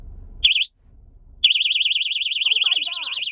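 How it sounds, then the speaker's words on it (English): A red-button personal safety alarm keychain shrieks with a loud, steady warbling siren tone that cuts in after a brief first burst, continuing without a break, close to the microphone, with faint voices underneath. "this is not just like a regular keychain, it's an alarm. So if you press this red button,"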